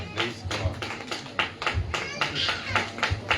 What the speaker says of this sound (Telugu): చప్పట్లు కొట్టి దేవునికి మహిమ అర్పిస్తాం.